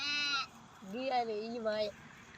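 A sheep bleats twice, close and loud: a short high bleat, then a longer wavering one after a brief pause.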